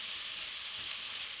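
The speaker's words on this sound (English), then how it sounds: "And just give that a stir." Steady sizzling hiss of onion, celery and vegetables with salt being stirred in a hot pot, continuous and close with no talk.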